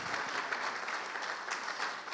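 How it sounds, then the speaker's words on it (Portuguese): Brief, dense applause fills a church during a celebration service, the congregation clapping steadily for the authors. "Uma salva de palmas para os autores aqui"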